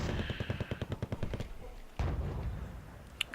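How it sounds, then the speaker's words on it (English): Artillery fire in the wargame Wargame AirLand Battle: a rapid run of roughly a dozen sharp shell impacts in the first second and a half, then one heavy blast with a long rumbling tail and a brief crack near the end. "Artillery dropping down from above."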